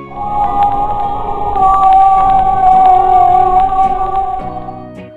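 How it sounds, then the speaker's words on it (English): A whale gives one long, wavering, howl-like tonal call that swells and fades over several seconds, loud and alone. "Where is the whale?"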